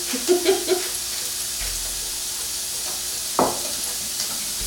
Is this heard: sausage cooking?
yes